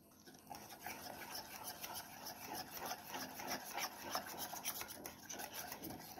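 Chhana (cottage cheese) pakora batter is whisked by hand in a bowl, giving a steady, close rasping and scraping with a rhythmic stir throughout, with no talking.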